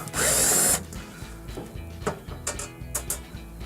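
A power drill backs screws out of a Whirlpool washer during a leaking hot water inlet valve repair: one loud, close whir lasting under a second, then quieter clicks, taps and rattles of handling.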